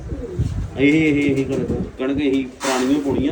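Pigeons coo in soft repeated phrases close by while a person talks over them.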